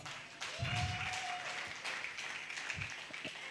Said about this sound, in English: Let's give them another hearty clap.